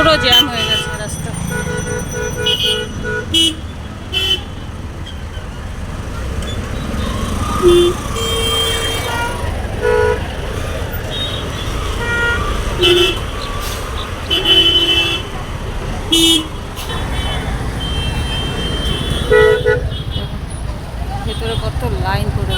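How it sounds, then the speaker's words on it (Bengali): A jammed road after a car and scooter collided, with car horns tooting repeatedly over engine rumble and general traffic noise, while people talk throughout. "পুরো জ্যাম হয়ে গেছে রাস্তা"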